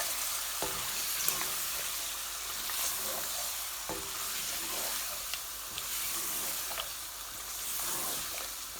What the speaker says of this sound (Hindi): चिकन को अच्छे से मसाले में मिक्स करेंगे।